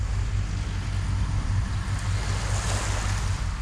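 Surf on an ordinary, deserted beach on a dull day, heard as a continuous low rushing roar of waves mixed with buffeting wind noise on the microphone.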